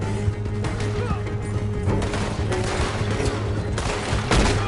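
Rapid gunfire from a shootout in Red Dead Redemption 2, dense overlapping shots and bursts crackling loudly and continuously, with voices shouting in the mix.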